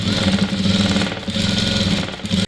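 A sewing machine runs steadily, laying a double line of stitching along the edge of a cut kurti top, a close, continuous buzzing hum with no pauses and no talk.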